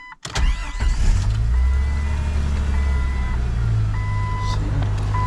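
A Jeep XJ with a mostly stock 4.0 engine cranks briefly and catches, then settles into a steady, loud, low idle with a faint whine above it.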